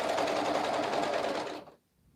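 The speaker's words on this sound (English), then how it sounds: "you can do that on a serger." A serger sewing machine stitches fabric in a fast, steady whirring run for about a second and a half, close and clear, then stops abruptly into near silence.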